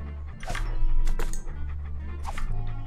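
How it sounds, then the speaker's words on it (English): Dog barking in the Monkey Island 2 video game: a few loud, sharp barks at irregular intervals, heard alone without talking. "Here, doggy doggy. Here, boy."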